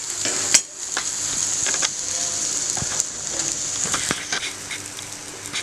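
Paratha sizzling steadily in a hot pan with a few sharp clicks and taps as it is flipped, close and continuous, no voices.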